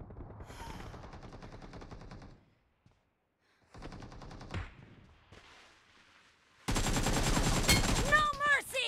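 Rapid bursts of gunfire in the PUBG Mobile warehouse map, loud with sharp repeated reports in several volleys separated by short gaps, joined by game voice callouts and ending in a dense, very loud burst of shooting.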